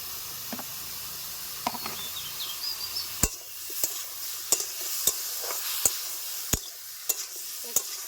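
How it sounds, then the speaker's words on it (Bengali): Pineapple with cashews and sugar being stirred and sautéed in a pan, a steady soft sizzle broken by a series of sharp spoon knocks against the pan. "একটু সময় আমি কষিয়ে নেব ভালো করে আমি কষিয়ে নিয়েছি"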